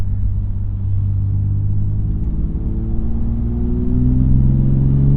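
A BMW M2 Competition engine accelerates past 3,000 RPM from inside the car, a loud, steady low rumble whose pitch climbs gradually as the revs rise.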